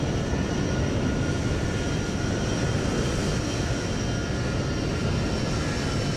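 Transavia airliner landing at Copenhagen in Microsoft Flight Simulator 2020, a loud, steady roar of jet engines that holds throughout without a break.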